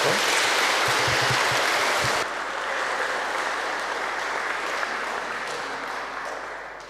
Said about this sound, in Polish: możemy Oli dać brawo